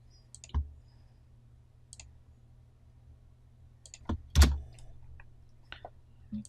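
Sparse mouse clicks while working in PowerPoint: a sharp click near the start, a long quiet stretch, then a quick pair of louder clicks close together and a few faint taps, all close and dry over a low steady hum.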